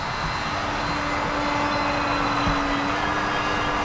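Large-scale RC Cessna 182 in flight, its engine a steady droning tone that holds even and fairly loud, with a faint whooshing wash around it and no talk.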